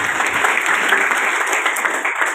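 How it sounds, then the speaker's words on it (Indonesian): Audience applause at a church gathering, a dense steady patter of many hands clapping close by for the whole stretch with no break. "kita kasih tepuk dulu"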